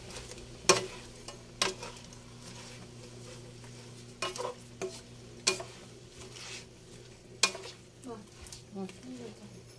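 Shrimp and kangkong are stirred in a sizzling pan, with a utensil knocking and scraping against the metal in irregular strokes over a quiet background hiss.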